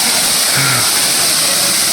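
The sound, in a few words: waterfall flowing near Agathiyar temple, Kanyakumari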